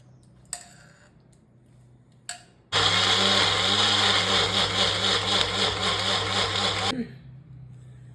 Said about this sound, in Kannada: ಈಗ ಇದನ್ನು ಮಿಕ್ಸಿ ಮಾಡ್ಕೊಳ್ಳೋಣ.